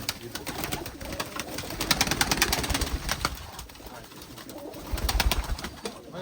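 Sizy pigeons from Turkistan coo repeatedly in a loft, close and fairly loud, with bursts of wing flapping and steady background noise throughout.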